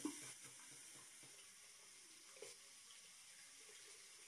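A bathroom tap runs steadily as water warms up for face washing, a soft continuous hiss of flowing water with a faint knock near the start and no voices.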